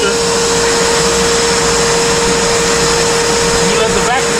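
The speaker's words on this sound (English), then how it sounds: "We're just going to use a shop vac today" A shop vacuum runs steadily while draining a GE front-load washer that will not drain, a loud droning motor with a high whine, close and continuous.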